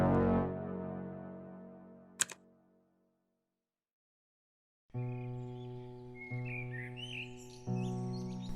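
Birds chirp and tweet on a late spring day in New York, light calls scattered over a steady musical tone after a fading piano-like chord and a short silence.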